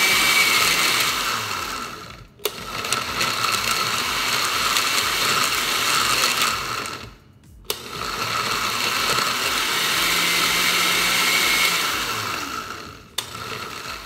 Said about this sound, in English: everything's in my container, so ready to blend it. Blend it to a smooth consistency